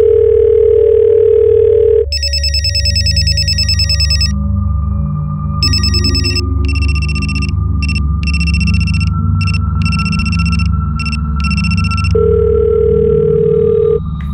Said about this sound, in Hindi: फोन बज तो रहा है लेकिन वो उठा नहीं रहे।